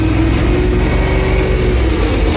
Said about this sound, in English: got some gas flowing through the engine. It's not going to stall out.